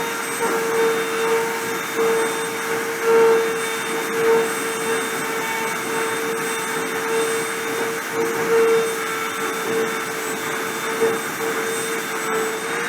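A CNC machine running a print job gives off a steady, loud mechanical hum with a constant tonal whine, broken by slight rhythmic swells as it works, with no voices.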